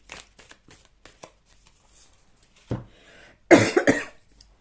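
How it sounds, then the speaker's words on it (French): A few soft taps and rustles, then a loud burst of coughing from a lingering illness, two or three harsh coughs close together near the end. "ma toux ne me quitte pas"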